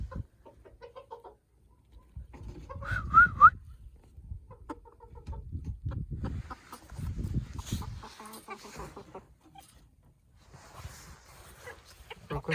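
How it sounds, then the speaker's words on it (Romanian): A Columbian black-yellow rooster and chickens cluck and call in short bursts in a farmyard, with low rustling and scattered animal sounds close by and a brief higher call partway through. "Ia uitați cocoșelul."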